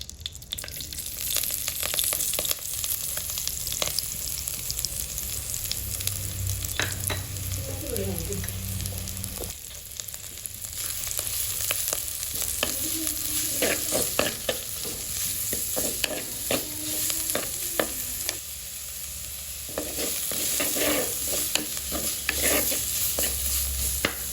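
Chopped onions and spices go into hot oil for a wild boar curry, sizzling continuously while a spoon stirs and scrapes the pan, close and steady throughout.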